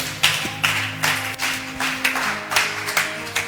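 A church congregation claps in praise, with rhythmic bursts of handclaps repeating at a steady pace and loud, close to the listener, without any talk.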